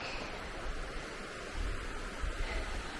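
Laurel Creek, a fairly large creek along the Appalachian Trail, flows as a steady broadband wash of rushing water, close and constant, with no voices.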